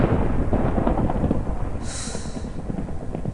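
A Minecraft thunderstorm gives a steady roar of rain-like noise over a deep rolling rumble, moderately loud and continuous, with no voices.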